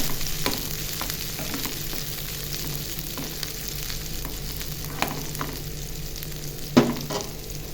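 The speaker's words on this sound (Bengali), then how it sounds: "দেখুন আমি পেঁয়াজটা ভাজতেছি" Onions fry in a pan, a steady close sizzle with scattered scrapes and taps of a spoon stirring them, one louder clank near the end, and no voices.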